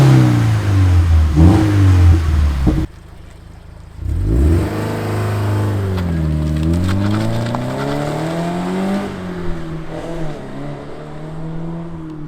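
A Toyota 86 fitted with a performance exhaust, loud and close, revs repeatedly, the engine note rising and falling in several surges, then settles into a steady raspy idle with occasional blips.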